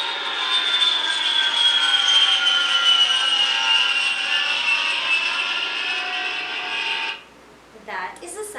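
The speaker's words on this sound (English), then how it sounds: "That is the sound of an airplane." A flying airplane gives a loud, sustained engine roar that holds steady for about seven seconds before dropping away, followed by a short, fainter sound at the very end.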